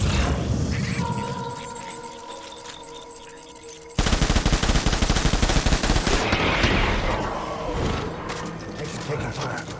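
Heavy automatic gunfire in the Death Stranding video game erupts abruptly after a stretch of tonal music, dense rapid shots continuing loudly, then thinning toward the end.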